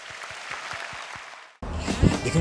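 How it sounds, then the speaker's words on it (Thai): Audience applause at The Voice Thailand television show: a run of distinct, evenly paced claps, then an abrupt cut to a louder, fuller burst of clapping from the crowd. "ขอเสียงปรบมือด้วยครับ"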